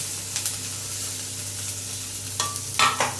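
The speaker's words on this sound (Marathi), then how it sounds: "तेल टाकलं आहे मोहरी जिरं हळद" Mustard seeds, cumin and turmeric temper in hot oil, a continuous close crackle and sizzle, with a couple of sharper bursts of spluttering or stirring near the end and no talking.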